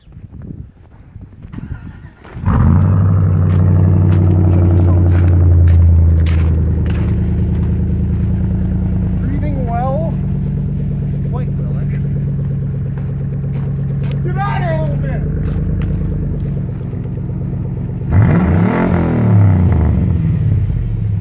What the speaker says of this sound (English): Cold start time!